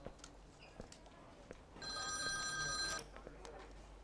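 A telephone rings once in a quiet indoor scene, a bright electronic trill lasting about a second, moderately close, amid faint room noise.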